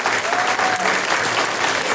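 An audience applauds at a school graduation token evening, with dense, steady clapping throughout and no pause.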